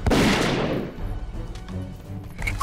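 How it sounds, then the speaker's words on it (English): Gunfire in the first-person game Zeno Clash, a loud burst at the start with a broad blast that decays over about a second, followed by quieter scattered shots and low rumbling. "Let me just take some pot shots of them through here."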